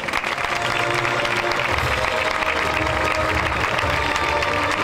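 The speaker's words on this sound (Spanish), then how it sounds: "Recibámosla con un fuerte aplauso." Dense, steady applause from a concert audience at a festival band music event, loud and continuous throughout with a crowd-like wash and no speech on top.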